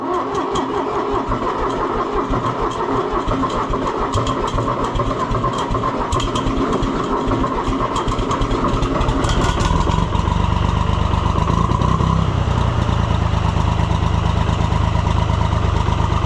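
A Cockshutt 1255 tractor engine with a suspected faulty starter cranks over steadily and mechanically, then catches and settles into a loud, continuous low idle.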